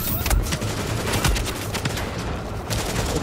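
Rapid gunfire from The Division on Xbox One S, a dense continuous barrage of overlapping shots and bursts that stays loud and sustained throughout, with faint voice underneath.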